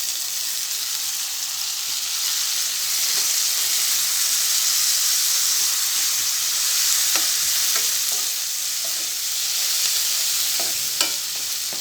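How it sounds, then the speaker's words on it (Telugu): Onions and tomato pieces fry and sizzle in a pan for a Rayalaseema-style uggani, with a steady hiss and occasional stirring clicks and scrapes throughout, close and fairly loud, with no voices. "టమాటా ముక్కల్ని మెత్తగా ఉడికించుకోవాలి."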